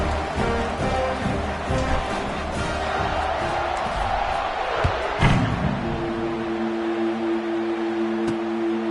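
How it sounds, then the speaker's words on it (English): Crowd at a Navy versus Air Force college football game in the stadium at kickoff, a broad sustained roar and cheering that swells and then settles into a steady din with a sustained tone. "They're set to kick it off, and this crowd now ready to get behind them."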